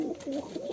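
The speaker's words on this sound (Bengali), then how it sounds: "আমাদের সিরাজি কবুতরের নরটাও কিন্তু ডাকাডাকি করতে আছে।" A male Sirazi pigeon coos close by, a short low soft burbling call rising and falling in two or three pulses, heard alone without talk.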